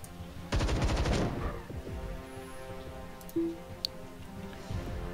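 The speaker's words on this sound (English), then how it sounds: "Let's burst fire that son of a bitch." Rapid burst of gunfire from a weapon in the video game Templar Battleforce, a dense loud rattle of shots in the first second, followed by scattered quieter clicks and mechanical ticks against a low game ambience.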